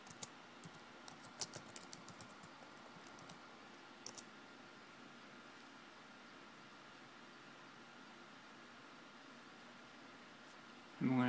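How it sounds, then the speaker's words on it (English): Username entry on a computer keyboard: a quiet burst of close key clicks in the first few seconds, a couple more taps later, then near silence with a low background hiss. "I need to type in the username of the account."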